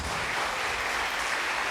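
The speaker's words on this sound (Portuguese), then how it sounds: "Você pode dar um aplauso a Jesus?" A church congregation applauding during a worship service, a thick, continuous roar of many hands clapping at steady loudness.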